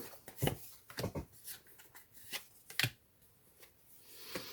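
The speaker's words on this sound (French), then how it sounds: "Je vais remélanger mes cartes." Tarot cards being shuffled by hand, a few soft papery riffles and flicks in short bursts, close and quiet with no voices.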